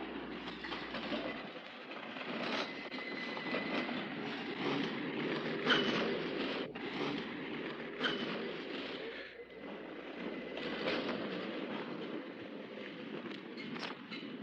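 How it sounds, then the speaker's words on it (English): A Key System B train pulls away from the Wesley Avenue station, an electric interurban on the Oakland line, giving a steady mid-level rumble and clickety-clack of wheels with a few sharper knocks along the way and no talking. "Here's a B train leaving Wesley Avenue."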